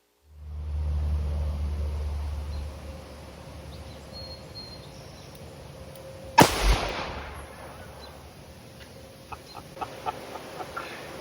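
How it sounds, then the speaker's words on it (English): A single sharp double-action shot from an S&W 686 Plus Mountain Gun revolver at an outdoor range cracks loudly midway, after a low rumble fades, followed by a short echo and some faint clicks. "I put 3 rounds of ammunition in the mountain gun. Again, this is double action shooting,"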